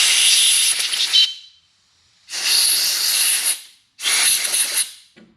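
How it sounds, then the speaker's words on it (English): Brake cleaner is sprayed into the bolt holes of a 2004 Harley-Davidson Road King Twin Cam during rocker box work: three loud, close hissing bursts, each about a second long, separated by short silent gaps. "spray a little brake clean in there and then blow"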